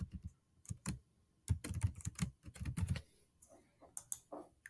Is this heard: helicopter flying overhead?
no